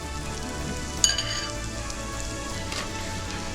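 Onions frying in hot oil with cumin in a pan for paneer butter masala, giving a steady close sizzle and crackle throughout, with one sharper pop near the start.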